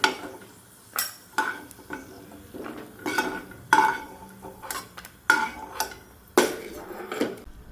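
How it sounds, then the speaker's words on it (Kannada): Cashews frying in a pan, with repeated sharp metal clinks and scrapes of a spoon against the pan as they are stirred and lifted out, alongside a faint sizzle; no voices. "ನೋಡಿ ಇವಾಗ ಗೋಡಂಬಿ ಫ್ರೈ ಆದ್ದು ಸಾಕು,"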